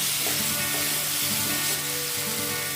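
Pre-heated cooking oil sizzles in a pan for a bottle gourd and prawn dish, a close, continuous crackling hiss that holds level for the whole stretch without talk.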